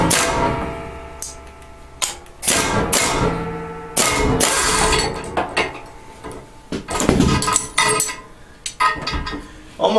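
A socket wrench works a bolt loose on an Ariens snowblower gearbox, giving sharp metallic clanks and ratcheting clicks in uneven bursts, loud and close against a steady mechanical background hum.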